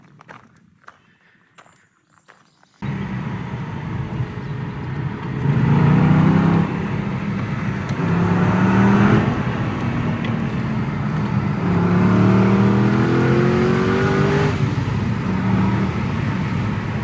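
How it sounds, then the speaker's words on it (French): An Aston Martin sports car on a Scottish road trip accelerates at half throttle, its engine note rising in repeated sweeping surges after a quiet start, loud and close with a steady road roar beneath. "À 280, tu es à la moitié de l'accélérateur."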